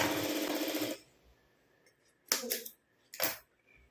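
Sewing machine stitching blouse fabric: a loud, steady burst of rapid stitching that stops after a second, followed by a few quieter knocks and clicks of handling.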